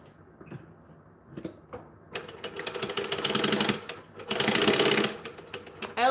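A sewing machine runs a seam at a quarter-inch allowance, with a few clicks and handling taps first, then two loud close bursts of rapid stitching, the second longer and steadier.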